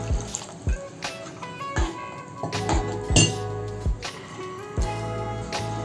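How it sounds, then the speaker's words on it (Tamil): Water poured into a cooking pot for Tamil sundakkai kulambu, about two cups, with repeated sharp clinks and splashing taps over a steady background hiss, close and fairly quiet, no talking. "2 கப் அளவுக்கு தண்ணி சேர்த்துக்கிறேன் நான்."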